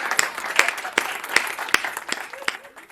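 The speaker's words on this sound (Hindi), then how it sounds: "भाई संदीप अनुरागी को जोरदार तालियों से आमंत्रित करिए" Applause from the audience at a Hindi comedy poetry event, with a dense patter of hands and several louder individual claps standing out near the microphone.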